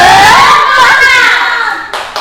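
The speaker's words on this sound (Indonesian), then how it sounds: "mari kita tepuk semangat." A primary school class performs a rhythmic tepuk semangat clap routine in a classroom, with loud children's chanting voices dominating and a short burst of clapping near the end.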